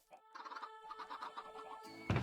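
Chickens on a farm give a run of quick, close clucks at moderate volume, ending in a sudden louder thump.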